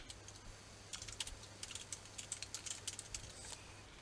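Quiet, close typing on a computer keyboard: a steady run of quick key clicks over a faint low hum, with a brief pause before the keystrokes resume.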